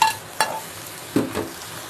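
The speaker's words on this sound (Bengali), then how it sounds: "এখন বাগার দিয়েছি" Whole spices and cumin powder hit hot oil for a tempering in a home kitchen during jackfruit cooking, giving soft sizzling with a few sharp clinks and stirring scrapes in short bursts, fairly quiet and close.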